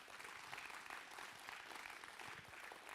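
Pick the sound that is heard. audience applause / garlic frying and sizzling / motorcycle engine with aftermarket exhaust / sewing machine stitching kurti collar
audience applause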